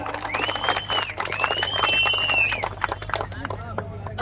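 Crowd applause at a public gathering honouring Prabhakar, dense clapping throughout, mixed with cheering and whistles near and mid-distance.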